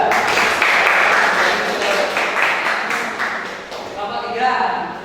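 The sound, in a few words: class applause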